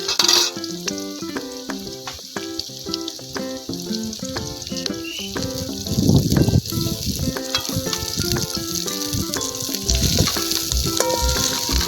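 Curry leaves hit hot oil during preparation of a spicy banana leaf fish fry, with a sharp burst of sizzling and crackling that settles into steady frying, heard under background music.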